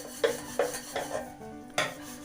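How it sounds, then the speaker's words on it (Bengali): A kadai and other pans are scrubbed and rinsed, with a handful of sharp metallic clanks and scrapes spaced out at close range and a soft running hiss between them, no talking. "এই কড়াই টড়াইগুলো আমি সব ধুয়ে নিচ্ছি"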